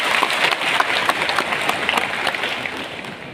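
A crowd gathered at a tribal activists' meeting gives loud, dense applause to welcome grassroots workers, the rapid clapping sustained throughout and easing slightly toward the end.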